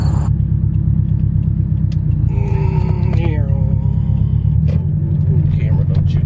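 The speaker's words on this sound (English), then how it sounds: "It sounds great, has a nice deep throaty sound, but it's quite muffled" A deep, steady, muffled exhaust rumble drones throughout from a Subaru STI being driven, with a person talking over it.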